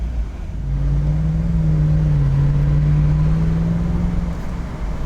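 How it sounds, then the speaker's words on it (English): A 2006 Mercedes-Benz CLK63 AMG convertible's exhaust rumbles loudly and close, a deep steady drone that swells and holds through a rev before easing slightly at the end, with no talking. "Don't think you'd ever get tired of that exhaust note."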